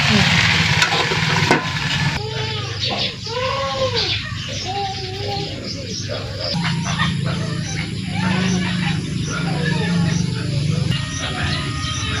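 Banana blossom (puso ng saging) sautés in a pan with a steady, loud sizzle and some stirring clatter, while chickens or birds call intermittently in the background.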